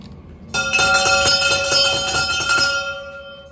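A bell is rung outdoors during a walk through Montreal and Quebec. Repeated ringing strikes blend into a sustained, bright chime that rings loud and near for about three seconds, then begins to fade.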